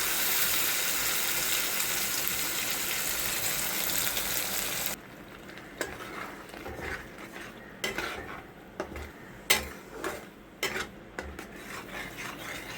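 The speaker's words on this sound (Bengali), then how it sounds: "এর মধ্যে আমি এই পালং শাকের পেস্টটা দিয়ে দেবো।" Spinach paste added to a hot pan, a loud broad hiss for several seconds that drops suddenly to quieter bubbling, followed by irregular clinks and scrapes of a utensil against the pan.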